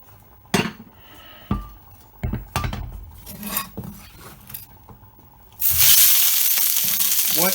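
White onion and green pepper stir-fried in a hot wok: several clanks and scrapes of a utensil against metal, then a sudden loud sizzle as the vegetables hit the oil and keep hissing steadily.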